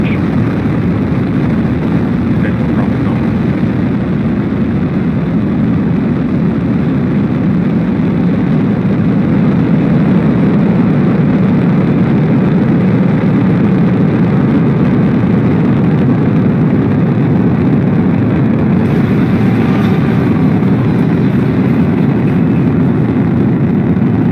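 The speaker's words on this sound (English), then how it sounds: "Ignition, liftoff." SpaceX Crew Dragon DM-1 rocket at liftoff, a loud, continuous low roar that stays steady and dense throughout with no talk over it.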